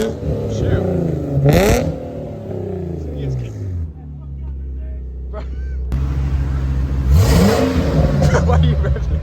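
A cammed C5 Corvette engine revs loudly nearby in a couple of rising bursts, throaty and rough between pulls, while people talk over and around it.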